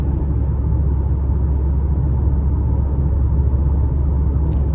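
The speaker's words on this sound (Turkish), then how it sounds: "motor sesi içeri birazcık geliyor" Steady low engine drone from a Mercedes-Benz GLB200 4MATIC AMG with a 1.33-litre 163 hp engine, heard from inside the cabin while driving, a constant muffled rumble with no talk.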